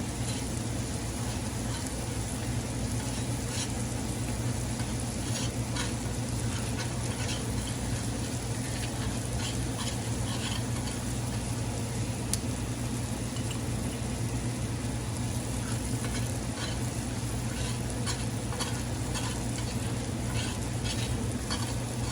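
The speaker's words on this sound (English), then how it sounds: "We're just gonna make a small golden roux right here." A small golden roux of flour, about a tablespoon or a little more, cooking in a pan for shrimp pasta, giving a steady, loud sizzle with soft stirring scrapes throughout, no talking.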